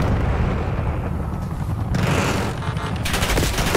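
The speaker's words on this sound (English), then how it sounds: "They're from both directions shooting me" Heavy automatic gunfire in Call of Duty: Black Ops 6 video game, sustained and loud, with overlapping bursts and a booming impact partway through.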